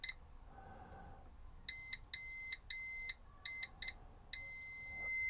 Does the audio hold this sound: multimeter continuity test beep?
yes